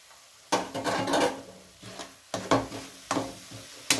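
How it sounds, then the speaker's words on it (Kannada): A spoon scrapes and clatters against a pan while coconut burfi mixture with cardamom powder is stirred, in several separate bursts of close, rhythmic scraping with short pauses between. "ಇದೆಲ್ಲ ಚೆನ್ನಾಗಿ ಮಿಕ್ಸ್ ಮಾಡೋಣ."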